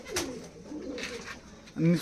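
Home-bred Giribaz pigeons coo in a loft, soft rolling coos close by with a louder coo near the end, and a voice faintly in the background.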